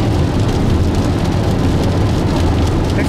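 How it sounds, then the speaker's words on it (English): Heavy rain drums steadily on a car driving along a highway, a dense, continuous roar of drops and road noise with no pauses. "it's raining pretty hard now."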